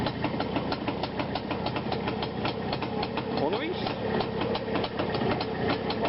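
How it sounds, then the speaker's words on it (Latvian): A motorcycle engine idles after the ignition is switched on, rumbling steadily with a knocking pulse, close and fairly loud. Someone speaks briefly over it. "Lūk, motors rūts, mocis ir gatavs."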